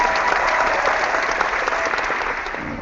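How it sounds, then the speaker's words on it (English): Canned applause effect triggered in a live chat session, a steady wash of clapping that stays loud and even throughout before easing slightly at the end. "you can do an applause"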